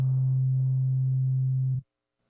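Weight 08, a synth preset from Native Instruments' Golden Kingdom expansion, plays a steady, pure low sustained tone that holds for almost two seconds and then cuts off into silence.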